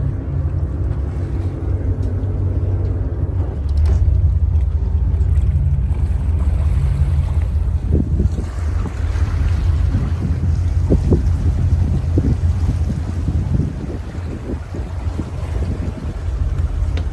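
A 40-foot Hatteras motor yacht pulling away from a marina dock, a loud steady low engine rumble with wind buffeting the microphone and occasional knocks and splashes.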